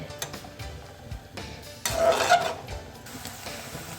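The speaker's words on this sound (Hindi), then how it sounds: "प्याज को मैं जो है हल्का सा सॉफ्ट करूँगी, ज़्यादा सुनहरे की तरफ नहीं लेके जाऊँगी" Chopped onions softening in a pan for chicken kadai, with soft sizzling and occasional scrapes and clinks of stirring, briefly louder midway before settling back to a low simmer.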